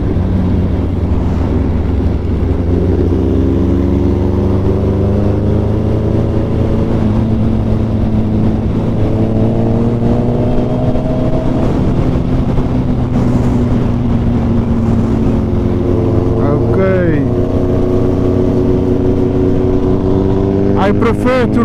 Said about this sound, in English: This in front of me, 2019 brand new Busa.